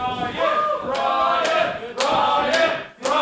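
A wrestling crowd cheers loudly and chants together, sustained voiced roaring with sharp impact hits cutting through at intervals.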